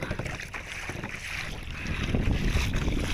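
Steady wind buffets the microphone outdoors by the sea, with broadband rushing noise and choppy water lapping nearby, growing a bit louder toward the end.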